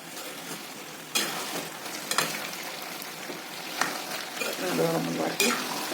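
Masala with ginger and garlic is stirred in a pan for Assamese pork, a lively sizzle with repeated scraping stir strokes and bursts of spitting oil, close and fairly loud.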